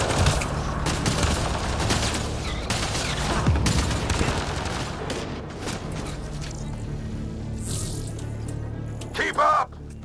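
Enemy gunfire in Mass Effect: Andromeda crackles in a dense, continuous battle din under tense voices, with bursts of shots and mechanical clatter throughout.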